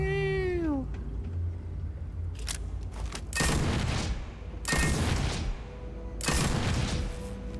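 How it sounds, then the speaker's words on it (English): Heavy explosions from a grenade launcher in Starfield, three big booming blasts spaced about a second and a half apart, close and loud over a steady low rumble of background game noise. "Kaboom. Grenade launcher."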